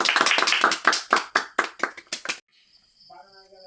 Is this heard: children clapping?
yes